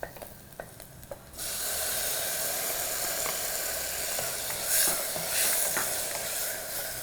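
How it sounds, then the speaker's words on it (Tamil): Chopped tomato drops into sautéed onions in a pan, and after a few quiet stirring clicks a loud, steady sizzle bursts up and continues with stirring. "ஸோ இப்போ ஆனியன் வந்து கொஞ்சம் சாட்டே ஆகிடுச்சு. இதில் வந்து அடுத்து டொமேட்டோ ஆட் பண்ணுறேன்."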